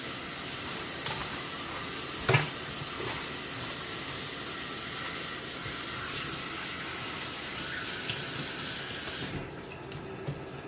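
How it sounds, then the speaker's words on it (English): Cabbages being washed in a pot under running water, a steady close hiss of flowing tap water with a few faint knocks, cutting off near the end. "So we wash our cabbages real good."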